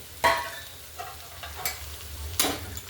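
Egg chutney with salt and turmeric is stirred in a hot pan, giving three or four distinct scraping strokes over a gentle sizzle.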